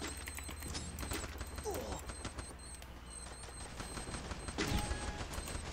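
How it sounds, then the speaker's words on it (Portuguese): Gunfire and grenade blasts ring out in a shooting video game, with a busy, fairly quiet mix of rapid shots, mechanical clatter and a louder burst near the end. "tem um lá de baixo jogando granada aqui em cima"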